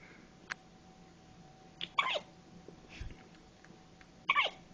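A newborn baby hiccuping up close in a quiet room: three short, sharp hiccups spaced a second or two apart, with faint soft breathing between them.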